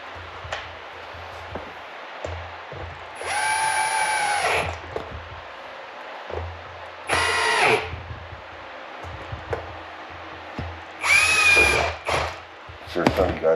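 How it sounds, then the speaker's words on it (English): A small power drill whirs in three short, loud, close bursts of a few seconds each while working on a Poulan chainsaw during a carburetor repair, with quieter handling noise and knocks between bursts. "but it's just a little drill."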